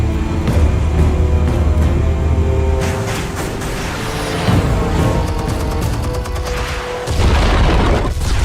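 Armed explosives detonating in a loud, sustained roar of booms and rumbling blasts close by, with crackling bursts layered over heavy low-end thunder that swells again toward the end.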